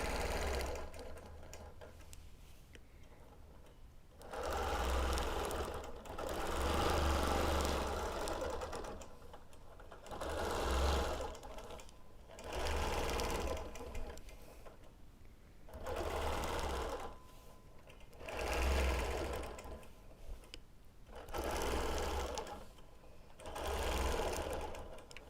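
A sewing machine doing free motion ruler quilting runs in repeated stitching bursts of a few seconds each, separated by short pauses, steady and close with no talk.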